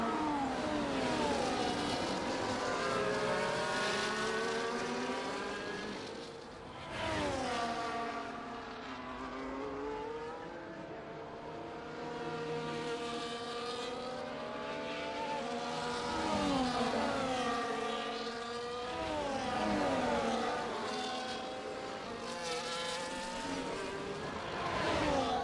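Several race cars in a racing video game sweep through the Monaco chicane, their engines rising and falling in pitch as they brake and accelerate, with overlapping passes and a brief lull midway.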